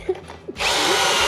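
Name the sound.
cordless drill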